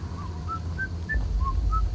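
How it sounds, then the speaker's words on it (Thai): A creepy doll whistles in the horror video game Sparky Marky, six short rising whistle notes in an eerie melodic line, clear and fairly loud, over a low rumbling ambience. "มันผิวปาก มันผิวปาก"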